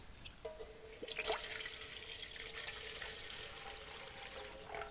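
Water poured over a person outdoors on grass, a faint, distant splashing trickle running steadily with a brief louder splash near the start.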